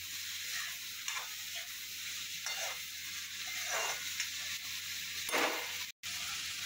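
Chopped tomato and onion sauté in a pan with cumin, whole spices and bay leaf for a paneer dish. A soft, low sizzle runs under a few swishing stirs, broken by a brief silence near the end.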